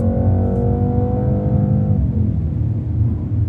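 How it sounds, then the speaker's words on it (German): A loud, deep Mercedes-AMG C 63 S engine (375 kW) rumbles and revs, the pitch climbing then dropping away into a throaty low growl from an open exhaust. "jetzt genieße wir mal kurz den Sound mit offenem Auspuff"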